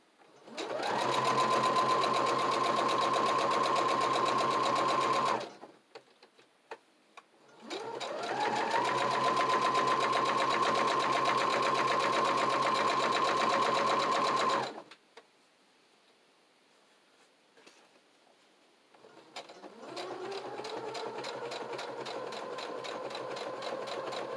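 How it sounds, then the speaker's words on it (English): A sewing machine stitching close to the edge of a mini travelers notebook insert runs in long steady bursts, a whirring hum with rapid stitching, pausing briefly between runs and restarting softer at the end. "are you seeing the sewing machine?"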